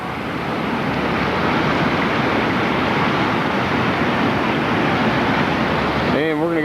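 Powerful river rapids of white water rushing past at roughly 10,000 cubic feet per second during a rafting trip, a loud, steady roar that fills the whole clip without pause.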